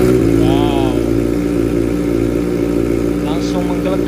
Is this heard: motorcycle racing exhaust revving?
yes